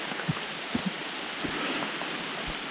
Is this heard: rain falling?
yes